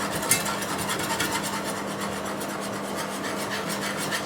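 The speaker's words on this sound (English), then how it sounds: "So I'm just going to start adding in the flour. I like to whisk it the whole time." Flour being whisked continuously into a parsley sauce for corned beef, giving a steady close-up scratching and rubbing sound with quick repeated strokes of the whisk against the pan, with no talking.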